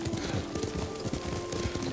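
Rhythmic clip-clop of horse hooves at a steady gallop in the video game Ghost of Tsushima, continuous and fairly close, with a faint whinny under light game ambience and a steady tonal hum.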